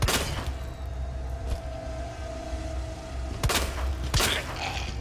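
Gunshots in the Resident Evil 2 video game, a few sharp loud blasts spaced apart, the first at the start and two close together near the end, over a steady droning game ambience.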